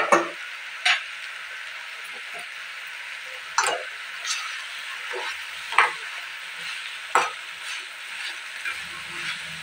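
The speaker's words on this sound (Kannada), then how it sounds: "ಈರುಳ್ಳಿ ಟೊಮೊಟೊ ಚೆನ್ನಾಗಿ ಫ್ರೈ ಮಾಡ್ಕೋಬೇಕು ಫ್ರೆಂಡ್ಸ್" Onion and tomato frying in a pan with dried red chillies, a low constant sizzle with occasional sharp taps and scrapes of a spatula spaced a couple of seconds apart, close and fairly quiet.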